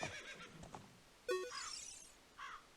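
Epona the horse in the video game Ocarina of Time lets out a high, quavering whinny midway through, followed by a shorter neigh, with faint clip-clop hoofbeats and game sounds before it.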